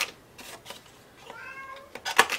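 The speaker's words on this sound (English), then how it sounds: "it's my cat meowing" A pet cat meows nearby in a quiet room, a couple of soft, drawn-out meows building to a louder, sharper cry at the end, with faint handling noises in between.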